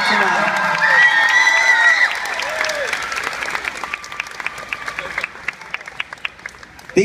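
An audience at a live singing competition breaks into loud applause with cheers and whoops as contestants leave the stage, the clapping swelling and then gradually thinning toward the end.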